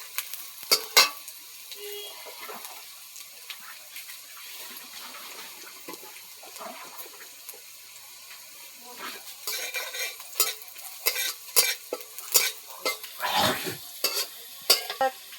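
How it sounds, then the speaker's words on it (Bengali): Tilapia curry with tomato is stirred and mashed in a pan, giving close wet squelching, scraping and spatula taps over a low sizzle, growing busier and louder in the second half. "তরকারিটা থকথকা হয়ে যাবে, একটু থেতলা করে নিচ্ছি।"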